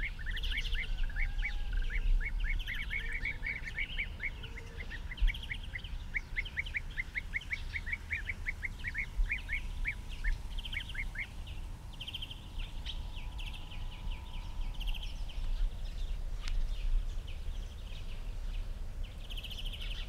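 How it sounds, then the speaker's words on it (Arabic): Colourful birds known as birds of paradise call outdoors in a rapid series of repeated chirps early on. Scattered, fainter calls follow over steady background noise, and no one speaks. "طيور جميلة زاهية الألوان تنعت بطيور الجنة"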